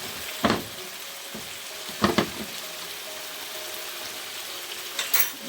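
Red chilli paste and paprika powder being cooked down in a pan with dried chillies and spice masala, a steady soft sizzle broken by a few sharp stirring scrapes, close and moderately quiet.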